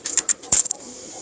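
Pigeons give a few short, soft coos and flutters close by in quick succession, then fade into quiet room tone.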